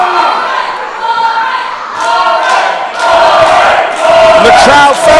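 A wrestling arena crowd in a championship match roars and shouts, swelling in waves, loud and dense with bursts of yelling and thuds.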